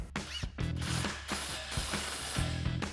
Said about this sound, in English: tighten down the nut.